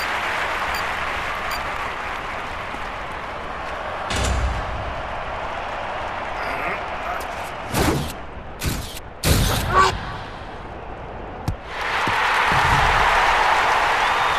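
Crowd cheering and applause swell from a stadium at a shot put event in a London 2012 Olympics video game, a steady roar with bursts and thuds midway and a louder surge of cheering near the end.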